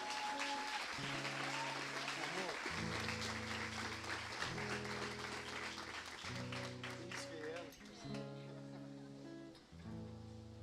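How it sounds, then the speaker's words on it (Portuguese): A church congregation applauds in praise during a service, the broad clapping spread over sustained organ-like keyboard chords, with voices mixed in. "Dê um aplauso ao Senhor."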